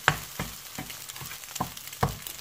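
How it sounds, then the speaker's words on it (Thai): Egg stir-fried in a pan while prawn fried rice is being made, with a spatula scraping in repeated strokes roughly every half second over a low, steady sizzle, close by. "ล้วก็จะผัดต่อให้ไข่สุกนะคะ"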